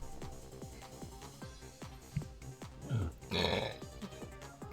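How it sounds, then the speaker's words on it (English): A person burps during a sewing session, a low, rough, drawn-out eructation rising out of a background of regular low thumping, fairly close and moderately loud. "Try not to burp right into your ears"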